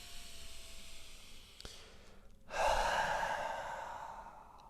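A person exhaling forcefully through the mouth with the tongue out during a gentle hatha yoga session, one soft breath, then a louder, longer breathy rush that fades gradually.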